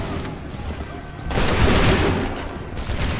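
Musket volley fired by a line of soldiers in the video game Assassin's Creed 3, a dense crackling burst of overlapping shots swelling midway and lingering with rumble amid battlefield noise.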